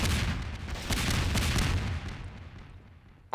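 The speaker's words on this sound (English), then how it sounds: "Rocket barrage, like this." A rocket barrage roars from a weapon in Garry's Mod with the PewPew V2 addon, a dense rumbling volley of loud blasts that tapers off toward the end.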